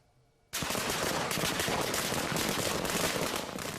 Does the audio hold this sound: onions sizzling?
no